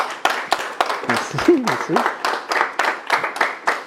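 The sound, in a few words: audience applauding the re-elected mayor at a council meeting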